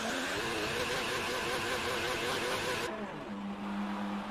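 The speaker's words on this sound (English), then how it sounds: "Bit of a weird engine noise coming out of some of these cars." Racing car engines at the 2018 Bahrain race broadcast drone with a wavering, high-pitched whine. The sound suddenly cuts to a lower, steadier engine hum partway through.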